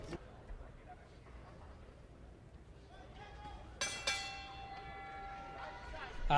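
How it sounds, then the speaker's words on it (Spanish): A boxing bell rings with two sharp metallic strikes that ring out and decay, over crowd noise. "Aquí suena ya la campana para el tercer round"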